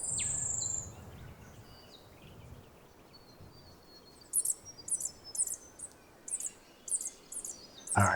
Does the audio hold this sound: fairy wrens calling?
yes